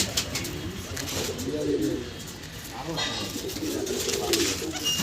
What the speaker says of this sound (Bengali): এই খাঁচার মধ্যে কিছু পায়রা এখানে আছে